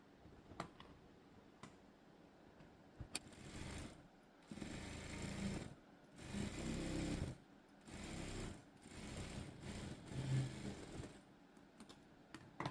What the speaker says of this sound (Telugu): ఇప్పుడు దీన్ని ఇలా అనుకుని దీని మీద ఒక కుట్టు అనేది వేసుకోవాలి.